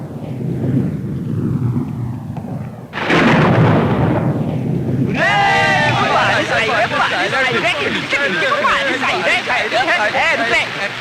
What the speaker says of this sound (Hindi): बादल गरजने लगे। आई, बारिश होने लगी।